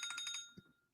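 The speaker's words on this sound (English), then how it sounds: "Uh-oh, my alarm went off." An electronic alarm goes off with a quick run of about five bright beeping pulses, then a short low thump and fading tail, faint and fairly close.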